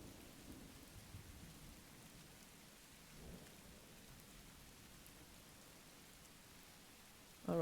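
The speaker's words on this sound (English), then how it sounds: "Oh, the rain sounds are so cozy." Rain and thunder ambience in the Make Room video game: a soft, steady hiss of rainfall with low rumbling thunder underneath, faint and continuous, with a brief louder sound at the very end.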